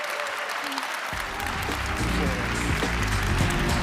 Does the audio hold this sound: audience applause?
yes